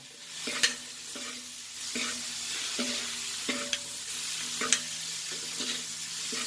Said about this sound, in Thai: แล้วก็มาผัดรวมกันไป